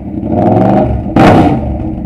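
A Yamaha MT motorcycle fitted with a new exhaust tip idles loudly close by, then a quick throttle blip gives a sharp, raspy rev before it settles back down.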